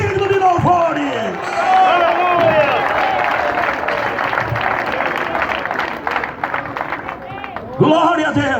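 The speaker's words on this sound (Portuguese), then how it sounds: "Aplaudir ao Senhor com as mãos." A church congregation claps together at a Saturday worship service, a dense, steady wash of applause running for several seconds while a preacher's voice carries over it at the start and end.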